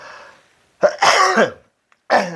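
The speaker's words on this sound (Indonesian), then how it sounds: "Waduh, batuk lagi" A pair of loud, close coughs, one short burst followed by a longer raspy one, then another cough starting after a short silence.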